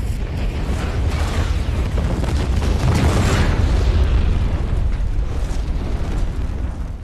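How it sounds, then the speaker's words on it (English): Massive film stunt explosion destroying a villain's Moroccan desert lair in the James Bond film Spectre, set off with kerosene and powder explosive; a loud, sustained roaring blast rumbles continuously throughout, swelling midway with no speech. "the violent destruction of Ernst Stavros Blofeld's Moroccan lair currently holds the world record for the largest film stunts explosion ever"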